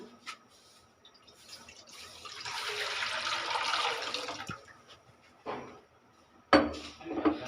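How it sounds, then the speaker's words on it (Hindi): Water pours steadily into a metal wok on a lit stove for a few seconds, a broad hissing splash that swells and then tapers off, followed by a couple of clanks. "अब हम इसमें डालेंगे पानी"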